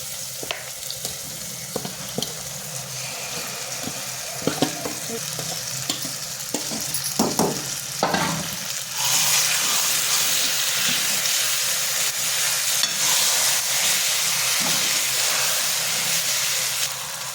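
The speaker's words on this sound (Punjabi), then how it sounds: "ਤੇ ਲਓ ਜੀ ਆਪਣਾ ਮਸਾਲਾ ਬਣ ਗਿਆ ਪਿਆਜ਼ ਭੁੱਜ ਗਿਆ ਆਪਾਂ ਟਮਾਟਰ ਵੀ ਪਾਉਣੇ ਆਪਾਂ ਪਾਉਣੇ ਇਹਦੇ ਵਿੱਚ ਸਾਗ" Onion and tomato masala with saag fries and sizzles in a pan while a spoon stirs it, with scraping knocks early on, then a loud, steady sizzle takes over, close and without voices.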